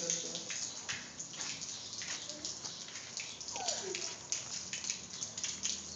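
Water spraying from a garden hose onto a plant outdoors, a soft, steady patter and splash with brief gurgles, while voices murmur faintly in the background.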